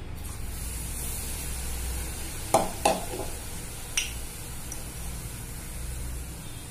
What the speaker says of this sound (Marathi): हे बघा आपण आता वडे तळायला घेऊ.